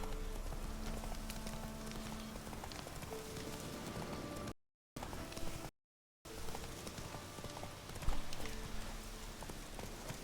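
In Witcher 3 a horse gallops with a quick, steady clip-clop of hooves over a soft, rain-like hiss, broken by two short dropouts of silence.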